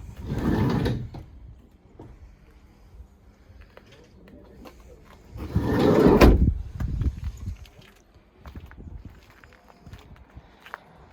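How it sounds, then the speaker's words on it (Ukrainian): Rear swing doors of a 2017 Renault Kangoo with a 90 hp engine being opened and closed, giving two loud clunking bursts with lighter knocks and handling noises between them. "Ззаді встановлені розпашні дверцята для зручності."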